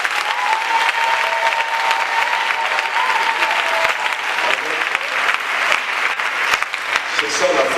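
A church congregation applauds in praise, steady dense clapping with crowd noise and voices running through it, loud and close throughout.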